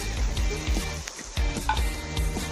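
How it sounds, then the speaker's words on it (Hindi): Chicken frying in masala in a hot pan gives a steady, close sizzle, with stirring scrapes now and then and no talking. "मसाला वो चिकन अब भुन चुका है"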